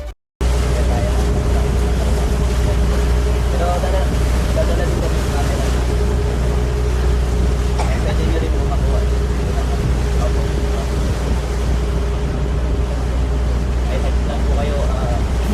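Island-hopping boat ride in El Nido, Palawan: a steady, loud motorboat engine drone mixed with wind buffeting and water noise, with faint voices now and then.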